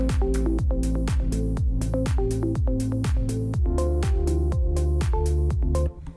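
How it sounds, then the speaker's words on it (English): A programmed drum layer from a song production plays a steady, loud loop of deep booming kicks with falling pitch and crisp snare and hat hits in a regular rhythm, cutting off just before the end. "First drum layer he had sounded like this."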